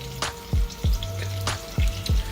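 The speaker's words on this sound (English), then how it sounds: "I have a foil pan that's just over here in the background, you just heard" Aluminium foil pan handled in a home kitchen, giving several short crinkly crackles and light metallic knocks at an uneven pace, close and moderately loud with nobody talking.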